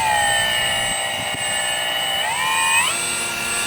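A custom RC Bird Of Time glider on its maiden flight gives off a steady, loud, high motor whine whose pitch swings upward partway through.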